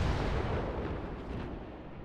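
Warship guns firing in the naval game World of Warships, a loud booming artillery blast that rolls off into a fading rumble over about two seconds, with no talking.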